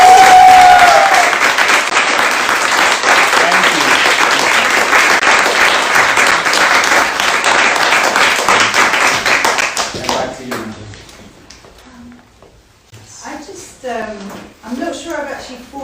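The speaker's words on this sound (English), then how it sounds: "Can I ask you to join me for a round of applause for me?" Sustained applause from a live audience at an art-world debate, dense and loud for about ten seconds before fading out, followed by someone speaking.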